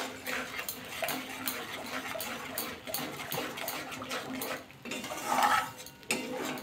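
A spatula stirs and scrapes through brinjal curry with poppy seed and green chilli paste in a metal pan, irregular clinks and scrapes up close over a low sizzle.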